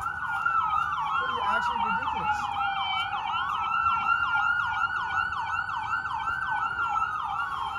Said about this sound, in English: I hear sirens pretty far away,